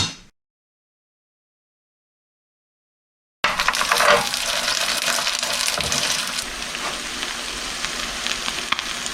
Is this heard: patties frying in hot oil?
yes